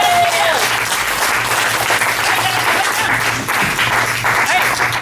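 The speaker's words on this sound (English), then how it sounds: "let's give a hand for" An audience at a filmmaking Q&A session breaks into sustained, loud applause, dense clapping that fills the whole stretch without a break before fading at the very end.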